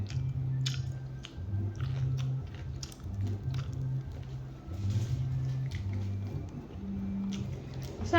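Someone chews and eats beef steak close to the mic with soft, wet, squishy bites. A low steady hum runs underneath and a voice speaks now and then.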